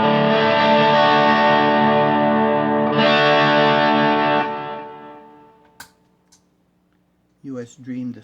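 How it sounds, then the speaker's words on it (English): An electric guitar played through a US Dream distortion pedal rings out one thick, saturated chord that sustains for about four seconds and slowly decays, followed by a couple of small clicks and a brief voice at the end. "US Dream distortion."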